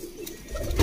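A female pigeon held in the hand while her build is checked gives a short, soft, low coo, ending in a brief rustle or thump of handling.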